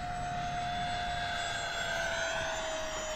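An E-Flite A-10 Thunderbolt twin 64mm EDF model jet flies at full throttle, a steady whining ducted-fan drone with a sustained high tone, fairly faint and distant.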